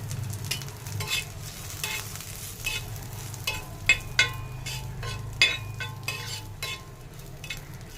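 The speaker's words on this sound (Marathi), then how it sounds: "तर आपलं जिरंसुद्धा छान असं भाजलेलं आहे" Cumin seeds roast in a hot pan for a tomato and chili thecha, giving a continuous close crackling sizzle with a few sharp metallic taps of the spoon against the pan.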